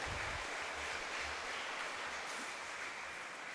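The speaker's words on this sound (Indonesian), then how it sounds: "Kita tepuk tangan yang lebih panjang lagi." Faint, distant applause at a thanksgiving Mass in church, a steady wash of many hands clapping that continues evenly without voices.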